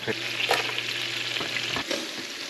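Shallots sizzling in a frying pan while being stirred, a steady close crackle and hiss with a few scraping stirs and no talking.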